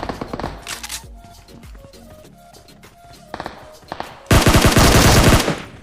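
Rapid automatic gunfire bursts and single shots in a battle royale video game, some near and loud, others more distant, ending in a dense, loud burst of sustained firing.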